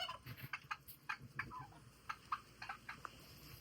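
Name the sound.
free-range local chickens on a farm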